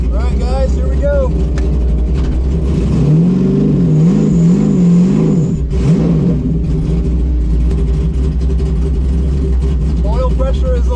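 Race car accelerating hard on a Texas mile standing-start run, engine note climbing and wavering as it pulls through the gears, loud and close with steady wind and road roar beneath, a voice talking over it at the start and end.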